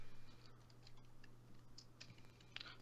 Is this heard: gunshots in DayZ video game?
no